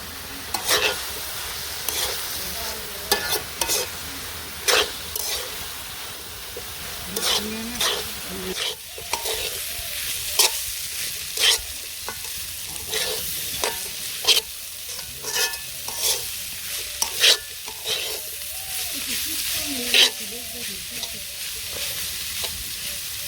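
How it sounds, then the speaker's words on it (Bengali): Cabbage stir-fried with turmeric and chili powder in a pan, with steady close sizzling and repeated scraping stirs of a utensil against the metal, loud and continuous throughout without speech. "আমার কাছে ভাজি হয়ে গেছে তো ভালো করে ভাজি করে নিচ্ছি"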